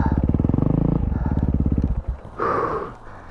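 Yamaha WR450F four-stroke dirt bike on a motocross track, rapid pulsing engine revs for about two seconds, then cutting out before a brief burst of another sound.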